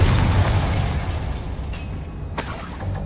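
A Confringo spell explosion in the video game Hogwarts Legacy, a loud sustained blast with a deep rumbling roar and a sharp crack near the end, heard alone without voices.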